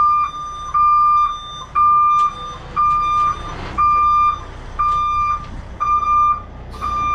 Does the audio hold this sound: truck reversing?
yes